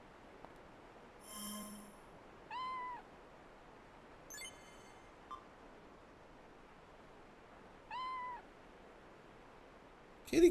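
A cat meows in the video game Disaster Report 4: several short, clear mews spaced across quiet game ambience, with a brief louder sound right at the end.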